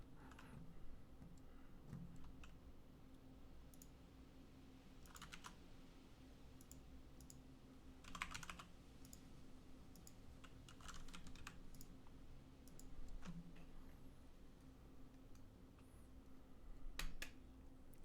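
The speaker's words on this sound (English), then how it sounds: "I'm just gonna type it." Steady typing on a computer keyboard, a quiet run of close key clicks with occasional louder clusters, continuing alone without talk.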